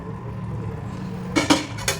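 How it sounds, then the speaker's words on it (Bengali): Potato curry with coconut milk is stirred in a pan, with a low simmering bed followed by several sharp, close metallic clinks of a spoon striking the pan's rim. "খুব ভালো করে নাড়িয়ে চাড়িয়ে নেব"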